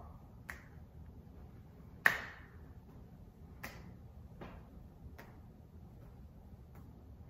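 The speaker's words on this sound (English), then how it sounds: "Can you clap your hands like me?" Sparse single claps from one person's hands during a preschool monkey rhyme, several separate sharp hits spaced irregularly over a quiet background.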